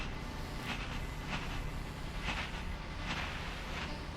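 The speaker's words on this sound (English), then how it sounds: "Got a little toy train right" Toy train in the video game What Remains of Edith Finch, running with a steady rolling rumble and faint rhythmic clicking of wheels on track, continuous and moderately loud with no talking.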